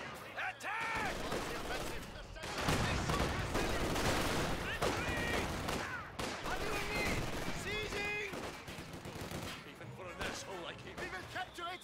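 Battlefield gunfire crackles in Company of Heroes, with repeated shots and bursts mixed with combat noise throughout, and unit voices calling out over the din.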